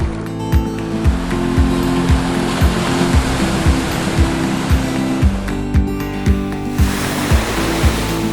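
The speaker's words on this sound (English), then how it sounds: "Imagine standing on the cliff's edge and seeing the waves crashing below" Ocean waves crash below a cliff on Mexico's coast in a loud, continuous roar of surf, with recurring thumps as each wave breaks and nothing else heard over the water.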